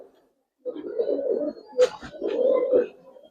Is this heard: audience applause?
no